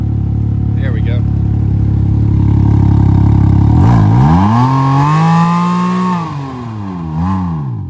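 A Can-Am Ryker with a modified exhaust idles with a deep burble, then revs up and down several times in loud, close swells.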